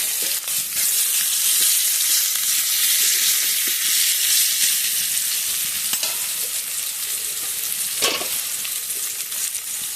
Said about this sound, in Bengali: মাছ ভাজা তেলের মধ্যে পেঁয়াজ ফোড়ন দিয়ে দিলাম।